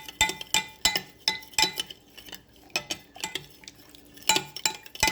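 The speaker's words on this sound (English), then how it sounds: "You're just gonna stir this in." Warm water stirred into Jamaican cornmeal pudding with a spoon, giving repeated sharp clinks against the bowl in a loose rhythm, close and clear with short pauses between strokes.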